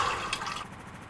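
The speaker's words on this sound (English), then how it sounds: "Let's drink some water." Water drinking in the No One Survived video game comes as a brief, steady gush of liquid with a bright splashing wash that fades out after about half a second.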